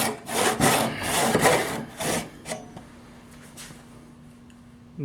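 Hand saw cutting through wood for a sanding block, a run of steady rasping back-and-forth strokes up close that slow and stop partway through, leaving a quiet faint hum afterward.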